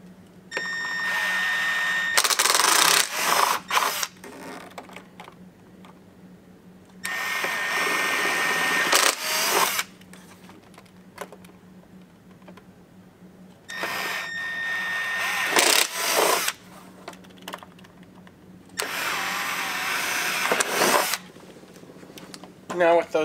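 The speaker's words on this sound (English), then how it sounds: "we're going to drill all 5 of these locations." A power drill with a 5/16 bit drills fender mounting holes on a Polaris RZR Pro R, running in four bursts of a few seconds each, loud and close, with quieter pauses between them.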